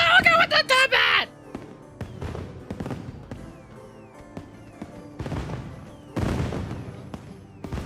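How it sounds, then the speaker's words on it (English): Video game fireworks in Monster Hunter Wilds open with a dense crackling burst, then a scattered series of sharp pops and booms of varying loudness. "Oh, the fireworks are like actual things."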